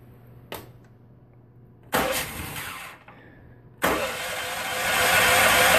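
Engine on a homemade hydraulic power pack being pull-started, two short cranking bursts followed by the motor catching and running steadily, close and fairly loud.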